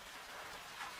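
Steady rain falls with a soft, even hiss and no distinct drops or thunder standing out. No voices are heard.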